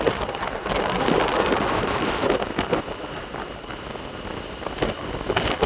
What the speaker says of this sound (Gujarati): વરસાદ આવે ને એટલે કઈ બોલાતું જ નથી